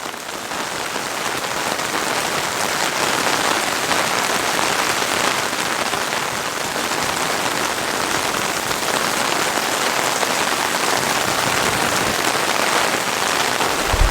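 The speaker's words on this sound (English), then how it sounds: "That rain is really pouring down now." A downpour pelts the roof of a KEA 2 tent in a constant, loud roar of close drops, steady throughout with no voices.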